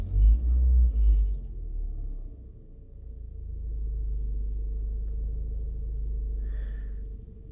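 A truck engine sits idling with a low, steady rumble that is fairly quiet and slightly uneven. It starts with a brief heavier thump and holds on alone without talk.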